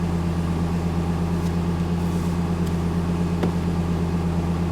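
A Lexus LFA engine idles at a steady, close, even drone with a constant low hum, a few faint clicks, no voices.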